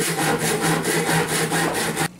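A hand saw cutting a piece of one-by wood to make a cross brace for a Harbor Freight Windsor wooden workbench: loud, close, rhythmic strokes, about eight even back-and-forth rasps, ending abruptly.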